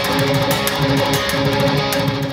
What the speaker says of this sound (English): every other time through, you're gonna be adding in a little pull-off accent like this